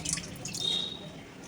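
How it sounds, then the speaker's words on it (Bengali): Water drips from a household leak with a few faint, light drops in a quiet room, set against low background hiss. "এই যে টপ টপ টপ টপ জল পড়ছে"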